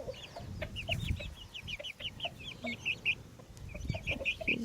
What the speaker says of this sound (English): very cute little chicken